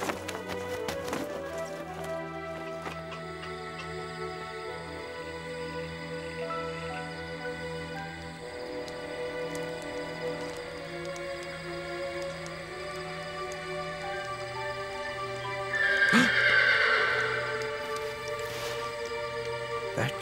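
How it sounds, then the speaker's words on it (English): A horse galloping in an animated series about the Silver Brumby, its hoofbeats steady and moderate beneath a sustained musical score, with a brief louder swell near the end. "Such a beautiful, noble horse."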